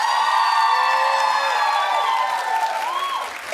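Studio audience applause and whoops during a television talk show clap poll: a loud wash of clapping with cheering and shouts over it, fading a little near the end.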